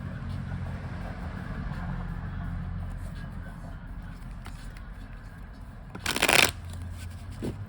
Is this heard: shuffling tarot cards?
yes